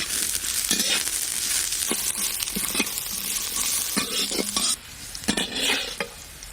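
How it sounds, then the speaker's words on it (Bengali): Carrots stir-frying in ghee, a loud continuous sizzle broken by repeated scraping strokes of a spatula against the pan, quieter near the end, with no talking. "গাজরগুলো হালকা করে ভাজা ভাজা হয়ে গেছে।"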